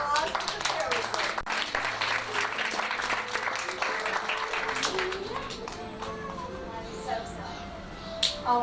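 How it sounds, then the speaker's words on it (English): A magic show audience claps for a performer dressed as a fairy woman, a brisk burst of applause that thins out toward the end while a voice carries on over it. "let's have a big round of applause for the fairy woman"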